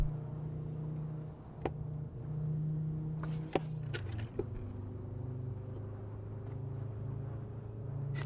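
Car engine drones steadily at cruising speed in a driving video game with a manual clutch, the low hum shifting pitch once around a gear change, with a few sharp clicks over the continuous tone.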